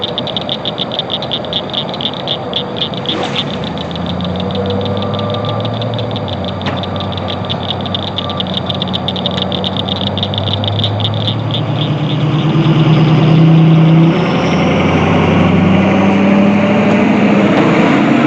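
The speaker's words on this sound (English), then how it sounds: "Nothing like a loud diesel truck in your video." A loud diesel truck engine idles steadily and close by, a low rumble with a faint rhythmic knock, while frogs or insects trill continuously in the background.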